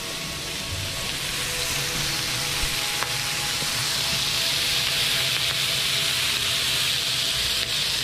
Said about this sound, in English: give the bacon wrapped dogs a chance to start cooking, and after they get going a little bit, we get some bacon grease built up